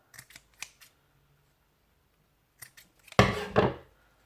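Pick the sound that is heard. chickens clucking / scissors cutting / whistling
scissors cutting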